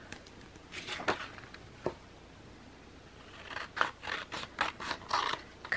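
Scissors snip through scrap paper in a quiet room, a few separate cuts early on followed by a quicker run of crisp snips toward the end, close by with no talking.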